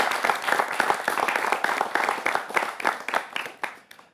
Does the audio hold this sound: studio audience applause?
yes